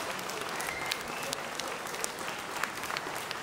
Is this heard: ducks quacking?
no